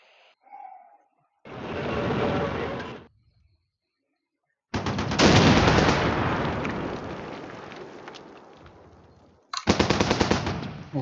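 Machine gun fire in the video game Armored Brigade 2: sustained loud automatic bursts in three separate strings, the middle one longest, with short silent gaps between them.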